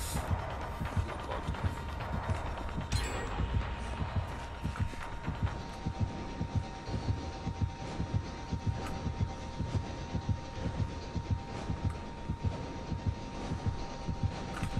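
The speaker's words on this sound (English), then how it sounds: "Oh, I hear a heartbeat." A killer's heartbeat warning in the video game Dead by Daylight: a steady, low, throbbing pulse thumping repeatedly throughout, layered over dense game ambience with no talk.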